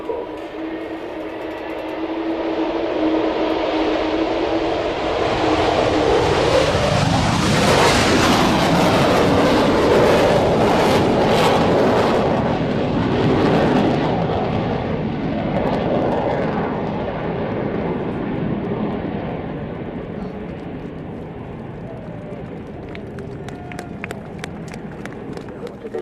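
An Avro Vulcan bomber with its gear up roars past at an air display, a broad rushing jet noise that builds to a loud peak and slowly fades, with a voice speaking over it at times.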